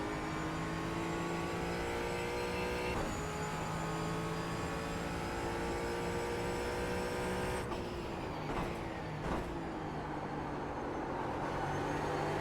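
A Mustang GT4 race car engine in a racing video game at Watkins Glen holds a steady, sustained drone, with a few sharp gear-shift breaks and other cars faintly audible.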